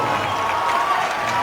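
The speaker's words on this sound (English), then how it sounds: "The Xaverian crowd firing up their team for this last minute 48" Xaverian Brothers student section at a high school boys' basketball playoff game, roaring and cheering continuously in a loud, dense wall of crowd noise.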